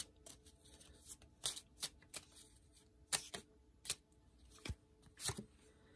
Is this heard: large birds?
no